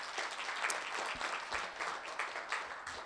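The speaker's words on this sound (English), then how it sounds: "Why don't we give each other a big round of applause for what was a very productive and successful day." Attendees at the close of a partnership symposium on sustainable tourism give a round of applause, a fairly soft, sustained spread of clapping across a room that swells and ebbs slightly.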